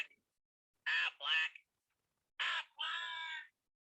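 A cartoon duck character's voice in its US version, four quacky, raspy vocal bursts in two pairs, loud and close, separated by silence.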